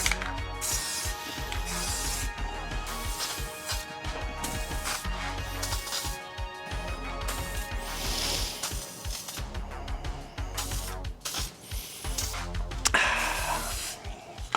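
Short hissing bursts from a rattle can of spray paint coating the other side of a rifle, repeated spurts separated by brief pauses, close and fairly quiet.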